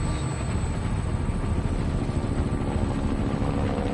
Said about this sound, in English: Four choppers.